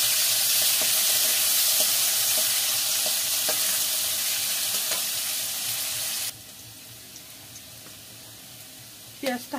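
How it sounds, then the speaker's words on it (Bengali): Chopped onions sizzle in hot oil with cloves, cardamom, cinnamon and bay leaf for a chicken gravy, a steady close crackling hiss that drops in level partway through, then a brief clatter near the end. "পেঁয়াজটা হালকা ভাজা হয়ে গেছে।"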